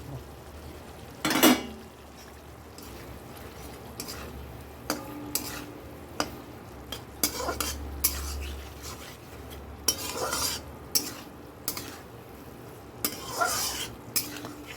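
Fish going into a pan of mustard sauce for a home-cooked Bengali dish, with intermittent clinks of a spatula or spoon stirring against the pan over a soft background sizzle, close and moderately loud, no talking.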